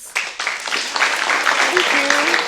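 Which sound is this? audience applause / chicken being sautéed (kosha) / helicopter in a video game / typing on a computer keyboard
audience applause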